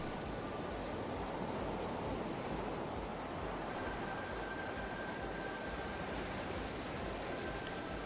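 Ocean wind and surf in the video game Perfect Tides form a steady, unbroken wash of broadband noise that holds an even level throughout, with no voices over it.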